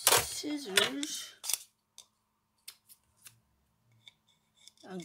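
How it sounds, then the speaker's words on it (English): Scissors snip ribbon in a few brief, faint clicks after a stretch of talk, with soft handling noises in a quiet room. "Get a pair of scissors"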